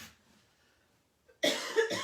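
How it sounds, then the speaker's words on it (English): A single short, raspy cough bursts out close and clear after near silence in a quiet room. "This cough is very annoying."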